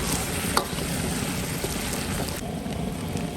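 Five-spice herb is stir-fried with beef tendon in a wok over high heat, a steady low sizzle and hiss with one faint clink of a utensil near the start.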